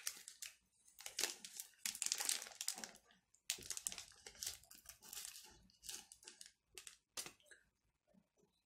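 A plastic biscuit wrapper is torn open and handled, giving bursts of sharp, close crinkling and rustling that stop and start, with brief pauses between them and no talking.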